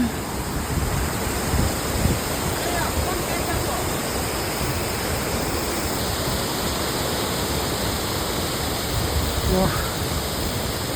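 Water flows steadily somewhere below a foggy peak, heard as a constant broad rushing hiss through the whole stretch, with faint wind and no clear voices over it.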